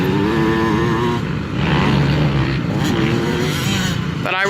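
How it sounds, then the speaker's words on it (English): A motocross dirt bike revs on a dirt track at an Evergreen Speedway practice session. The engine is loud and sustained, with its pitch rising and falling, and people talk over it. "That bike sounds so good."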